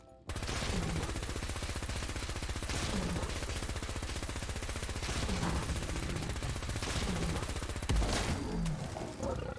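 Rapid sustained automatic fire from a Laser RCW in Fallout 4, a dense continuous rattle of shots lasting several seconds with brief pauses, fired at a Deathclaw, with a low growl from the creature mixed in.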